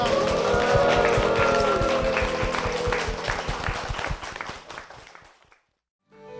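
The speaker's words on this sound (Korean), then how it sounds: "주님께 영광의 박수를 드리겠습니다." Applause from a church congregation giving glory to the Lord, steady dense clapping over a low backing tone that fades away into silence near the end.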